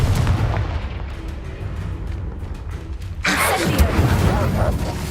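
Confringo blasting spell in the Hogwarts Legacy video game, with a sudden loud burst and rushing roar about two-thirds through, following a low rumbling stretch.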